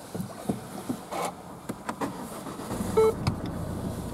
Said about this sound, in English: inside the car we've got front electric windows